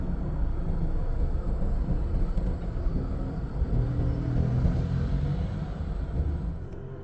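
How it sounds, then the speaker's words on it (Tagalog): A steady, droning motor hum with a low rumble fills the interior of a 2013 Honda City, continuous and fairly loud with no talking, from a noisy, faulty air-conditioning blower motor. "yung ingay ng aircon blower motor"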